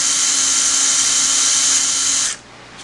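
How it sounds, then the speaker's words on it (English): A drill running at low speed bores partway into cardboard, making a steady, close whining buzz that holds for over two seconds and then cuts off abruptly, leaving quiet room tone. "Using a drill set on low speed, I can bore partway through this cardboard and create an inset that the magnets will sit in."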